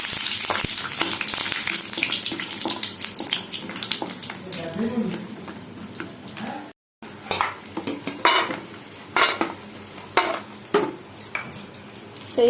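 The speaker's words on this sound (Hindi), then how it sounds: "प्रथमे कड़ाई रे तेल को गरम करी सेथिरे किछि बड़ी पकाई भाजिबा।" Dried lentil dumplings frying in hot oil in a kadai, a busy sizzle with sharp clinks and scrapes of a utensil against the pan, close up, broken by a brief silent gap midway.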